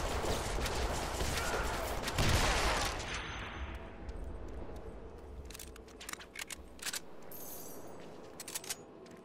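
Rapid SMG fire in the Deadpool video game crackles in a dense burst at first, then breaks into shorter scattered shots with mechanical clicks, fading as the action thins out.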